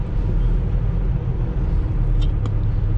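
City traffic near the George Washington Bridge rumbles in a continuous low roar of passing cars and buses, with a couple of brief higher hisses or squeals late on, and no talking.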